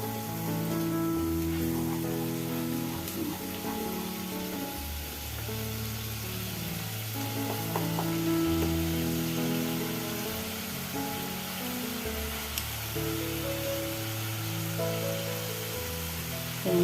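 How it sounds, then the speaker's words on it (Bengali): Onion paste frying in a pan for a raw banana kofta curry, a soft steady sizzle held under a quiet patch of faint kitchen noise, with no voices. "পেঁয়াজ বাটাটা একটু ভাজা ভাজা হয়ে যাবে।"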